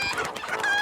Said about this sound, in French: Ça alors, par tous les pistons, ça en fait des poulets.